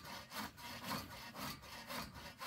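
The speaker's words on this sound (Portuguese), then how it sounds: "Quando não tem energia, tem que trabalhar no serrote" A hand saw cuts wood where there is no power for electric tools, making a steady back-and-forth rasp of about five strokes, close and fairly quiet, with no talk over it.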